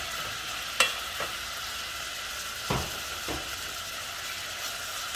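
Washed, drained mince tipped into a thin coating of hot oil in a pot for samosa filling: a soft steady sizzle with a couple of sharp clatters and scraping bumps, no voices.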